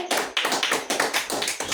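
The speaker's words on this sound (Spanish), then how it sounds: "¿Alguien puede dar un aplauso al Señor Jesús?" A church congregation claps for Jesus in a rhythmic, unison beat, about eight loud, close, sharp claps spaced evenly with no voices over them.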